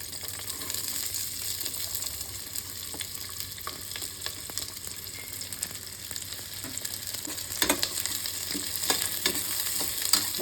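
Small shallots fry in hot oil for kudal kulambu, a continuous close sizzle and crackle with stirring scrapes that grow a little louder near the end, no voices.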